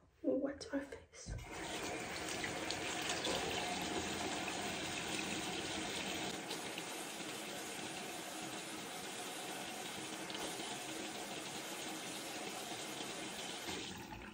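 Water runs continuously from a bathroom tap while a face is wetted, a steady close hissing flow after a brief clatter at the start.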